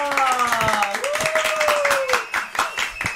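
A studio audience claps to welcome a three-member girl group, giving rapid, irregular hand claps at moderate loudness beneath a tonal musical sting.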